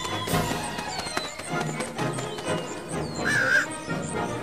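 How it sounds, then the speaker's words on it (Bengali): A crow caws a few times nearby amid outdoor background noise, with scattered taps and other birds chirping faintly. "শেষ পর্যন্ত লোভ প্রবল হওয়াতে কাকটা উঁচু কার্নিশ থেকে নেমে এলো ঝুড়ির সামনে।"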